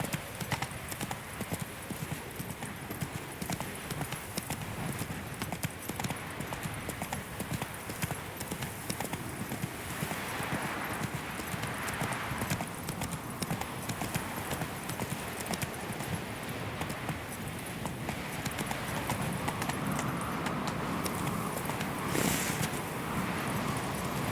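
Roach the horse's hooves clip-clop steadily along in The Witcher 3, a continuous rhythmic walking beat over ambient game sound, with a brief whinny-like touch later on.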